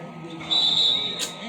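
Referee's whistle in an NBA basketball video game, one sharp sustained shrill blast that stands out over crowd murmur and game noise.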